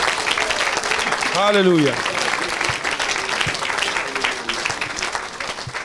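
Church congregation applauding during a healing service, sustained clapping and crowd noise throughout, with a voice calling out over it and a brief sung or shouted phrase in the middle.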